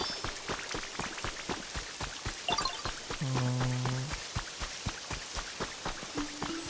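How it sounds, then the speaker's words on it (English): Dense pattering rain in the Pokemon Pokopia video game, a soft, even stream of tiny droplet ticks, with brief chiming game tones rising over it. "It's raining."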